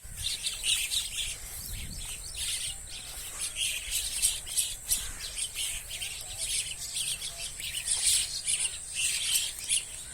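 Small birds chirp and tweet repeatedly in quick, overlapping bursts near a tube well where pigeons perch, with faint insect buzzing underneath and no talk.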